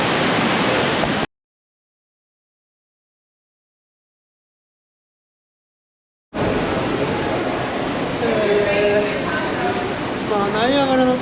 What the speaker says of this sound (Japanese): まあナイアガラの滝の裏側を見に来ております。